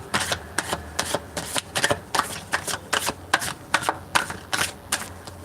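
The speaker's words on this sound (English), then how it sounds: "That was a good shuffle." Osho Zen Tarot cards with a glossy finish are shuffled in quick, regular riffling bursts, a crisp papery flutter repeating about twice a second, close up.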